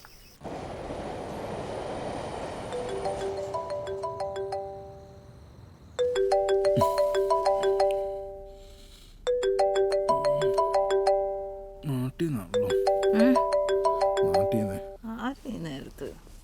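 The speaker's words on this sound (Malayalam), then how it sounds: "ഏയ് നീ വിളിക്കേ, എൽദോനെ വിളിക്കേ." A phone plays a repeating ringback tone while a call is placed, in regular melodic bursts that get choppier toward the end, with voices close by.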